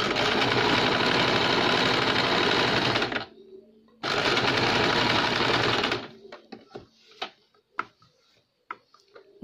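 A sewing machine runs close and loud, stitching layered fabric for a child's cap in two steady bursts, then falls to scattered clicks and handling taps.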